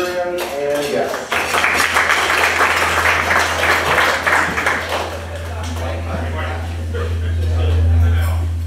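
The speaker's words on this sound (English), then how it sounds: "Round of applause for our valedictorian and guests." Round of applause from a meeting audience for a valedictorian and guests, a dense burst of clapping lasting several seconds before tapering off, with a voice speaking just before and a low electrical hum underneath.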